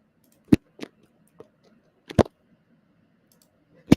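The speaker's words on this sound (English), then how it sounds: "I'm going to click on it, hold down the Shift key, and, and try to click on all of them" A computer mouse clicks several times in close succession, sharp isolated taps with short pauses between them, heard near and alone in a quiet room.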